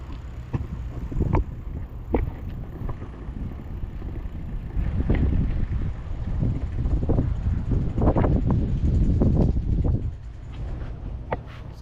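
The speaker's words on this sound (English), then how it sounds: "it's pretty windy today" Gusty wind at an airport buffets the microphone in loud, rumbling bursts that rise and fall throughout, with occasional faint clicks and rattles.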